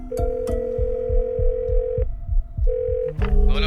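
A telephone ringback tone repeats in short regular pulses, loud and close, ending with a click as the call connects in an Indian film scene.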